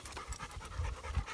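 Dogs panting rhythmically on a trail walk, quick repeated breaths close to the microphone with no talking.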